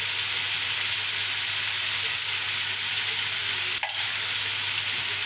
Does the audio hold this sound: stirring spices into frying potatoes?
yes